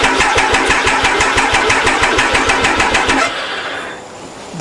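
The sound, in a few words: Triumph Tiger motorcycle engine cranking on electric starter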